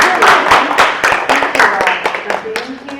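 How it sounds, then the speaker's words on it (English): Audience applause for a panel of senior care speakers at a continuing care community event, a dense run of many hands clapping at steady loudness throughout, close and filling the room. "let's give them all a hand"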